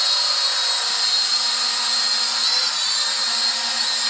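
RC Pro micro drone hovering in place with hands off the controls, a close, steady high-pitched whine of small spinning propellers that holds unbroken throughout.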